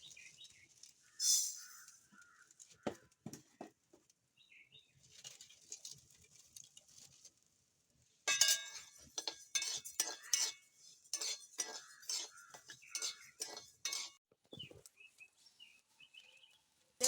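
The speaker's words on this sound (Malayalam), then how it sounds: "അപ്പോൾ ഞാനതൊന്ന് ചട്ടിയിലിട്ടിട്ട് വറുത്തെടുക്കാൻ പോവാണ്" Rice dry-roasting in a pan while being stirred, giving light, dry rattling and patter as the grains are turned, sparse at first and then busy and dense through the second half.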